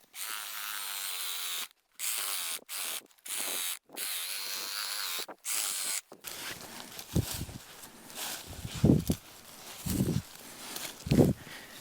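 A hand tool cuts thin bamboo roots in the soil of a bamboo grove, a run of loud, choppy bursts separated by short silences, followed by softer scraping and occasional heavier thuds.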